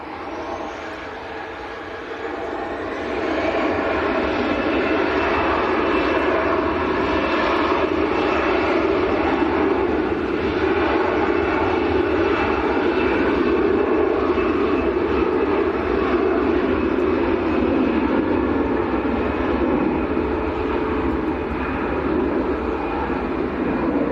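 A Privilege Style Boeing 777 departs Manchester airport, its jet engines building into a loud, sustained roar that holds steady for over twenty seconds, no voices.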